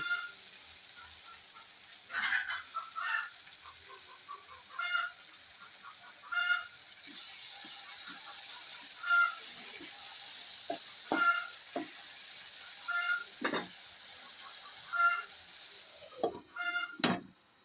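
Chicken sizzling in a frying pan as soy sauce is added, a steady hiss of frying broken by repeated scrapes and clinks of stirring, with occasional louder knocks.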